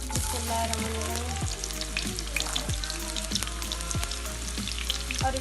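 Chopped onions frying in hot oil in a home kitchen while making white mash daal, a steady dense sizzle and crackle with occasional stirring scrapes, close and continuous with no talking.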